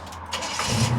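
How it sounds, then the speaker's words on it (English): A squarebody pickup truck engine cranks and catches, quickly rising into a loud, close idle with low rumble; no voices. "Truck starts, runs,"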